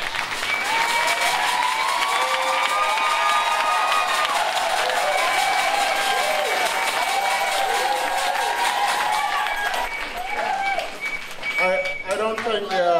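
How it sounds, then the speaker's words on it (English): A standing audience at a 2023 graduation commencement gives a long, sustained round of applause with some cheering, a voice speaking over it early on and another voice entering near the end as the clapping thins. "Let's stand, graduate, and give them a big round of applause."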